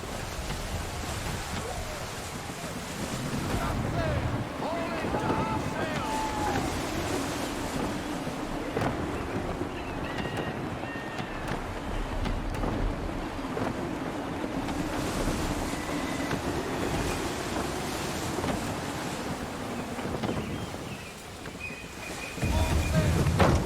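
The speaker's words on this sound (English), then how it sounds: "Gusty winds can be difficult to manage." Gusty wind and sea waves surround a sailing ship in the video game Assassin's Creed 3, with steady wind noise, washing surf and creaking hull sounds over about twenty seconds, ending in a louder gust.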